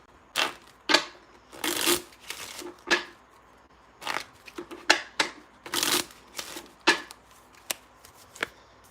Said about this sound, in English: I'm going to pull a playing card to find out when.